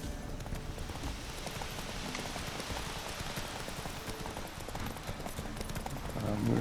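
Geralt's horse Roach gallops in The Witcher 3, the steady clip-clop of hooves drumming rhythmically over a dense game soundscape and continuing for the whole stretch, with no clear speech.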